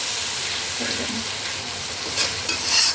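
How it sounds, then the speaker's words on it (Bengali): Chicken spice masala sizzles steadily in a pan after a little water is poured in, a continuous bright frying hiss with faint stirring scrapes and a few louder spits near the end. "জল একটুখানি দিয়ে দিলাম নাহলে মশলাটা পুড়ে যাবে"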